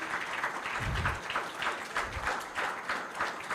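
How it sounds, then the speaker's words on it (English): An audience in an auditorium at a memorial oration gives a round of applause, a faint and even wash of clapping from a distance, with a couple of low thumps and no voices. "So a round of applause for him, Dr. Rubin."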